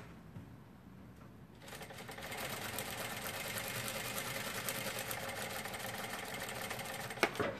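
A sewing machine stitches burlap bunting, starting after a short quiet lead-in and then running as a steady, continuous mechanical whir with rapid rhythmic clatter, close and fairly faint, ending with a sharp click.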